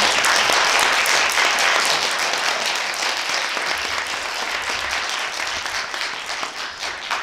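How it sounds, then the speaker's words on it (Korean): Lecture audience at a Seoul National University forum claps for the speaker, a loud, dense round of applause that holds steady and thins slightly toward the end. "다시 한번 큰 박수 부탁드리겠습니다."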